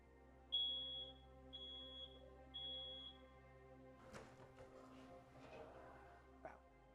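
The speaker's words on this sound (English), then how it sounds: "This is a smoke alarm, and you just simply press it to test it, and you wait a few seconds," A smoke alarm sounds during its test, giving three evenly spaced, high, piercing beeps, followed by clattering handling noises and a low steady hum.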